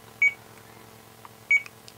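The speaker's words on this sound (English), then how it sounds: "We can stay in there and you can hear the beeps going on." Two short, sharp electronic beeps about a second and a quarter apart come from an OpenTX radio transmitter set up with a logical switch, heard faintly against a low background hum.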